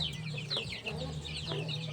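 Chickens clucking close by during feeding on a Thai farm, with repeated short clucks and squawks from several birds over a low, steady background hum.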